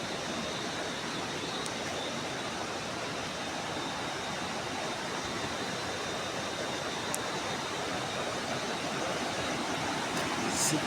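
The Shiv Khola river rushes past close by on the road to Rongton, a steady, dense broadband roar of flowing water that continues unbroken throughout.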